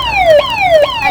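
A fire brigade siren sound effect repeats its falling wail in quick cycles, each tone sliding downward before snapping back up, loud and close with no talk.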